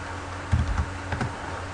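A few quick keystrokes on a computer keyboard, entering an ADB command, in two short clusters of light clicks close by, otherwise quiet with a faint background hum.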